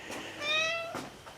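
A house cat meows once close by during a 2016 Chevrolet Sonic headlight replacement, a clear rising-and-falling tonal call of about half a second amid soft background noise.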